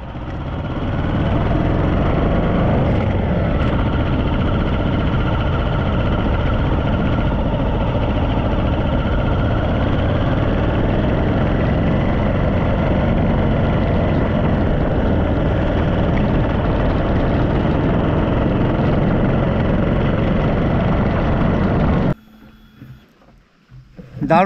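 Motorbike engine on a steep hill road on the ride from Siliguri to Sinji Khasmahal, a steady loud drone with wind rush that carries on unbroken before stopping abruptly near the end.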